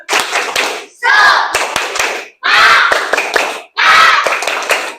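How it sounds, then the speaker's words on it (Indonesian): A classroom group does a rhythmic "tepuk semangat" cheer clap: loud, close bursts of patterned clapping in three or four phrases separated by short pauses, with group voices chanting along between the claps. "mari kita tepuk semangat"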